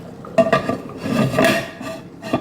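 A lid is set onto a pot of chicken biryani, producing a short metallic clatter and scrape of metal on metal at close range, with no voices.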